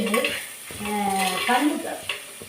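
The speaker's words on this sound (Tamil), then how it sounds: "வெங்காயத்தை நல்லா வதக்கிக்கலாம். கூடவே கொஞ்சம் கல்லுப்பு போட்டுக்கலாம்." Onions with rock salt sauté in a pan for chicken chukka, with a close, soft sizzle under repeated stirring and scraping of a utensil against the pan.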